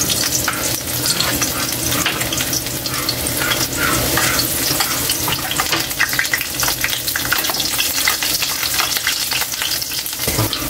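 Garlic fries in hot oil in a pan for a fish dish, a loud, steady close sizzle with stirring scrapes running throughout and no one talking.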